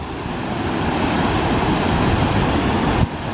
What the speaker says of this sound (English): Gives you a pretty nice view of the falls